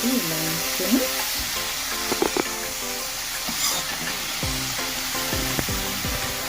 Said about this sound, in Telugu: ఒక్కసారి ఉల్లిపాయలు, పాలకూర అంతా నీట్గా కలుపుకోవాలండి